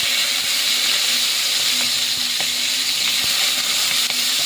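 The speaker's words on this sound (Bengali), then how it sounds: "পটলটা দিয়ে একটু নাড়িয়ে দিই" Pointed gourd sizzles in hot oil tempered with cumin, a steady loud frying hiss with light clicks and taps of stirring throughout, no voices.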